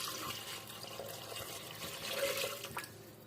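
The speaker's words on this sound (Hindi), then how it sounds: "मैं यहाँ 3 गिलास पानी शामिल कर रही हूँ।" Water poured into a pot of meat for spicy tikka boti, a steady splashing, gurgling stream of liquid close by and fairly loud for about three seconds, with no talk.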